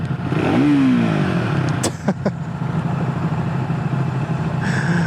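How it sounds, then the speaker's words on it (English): A 2025 Triumph Scrambler 400X motorcycle engine revs once, rising sharply in pitch, then settles into a steady, loud idle rumble with some clattering, recorded close by outdoors in the rain. "that's the rev sound of this thing"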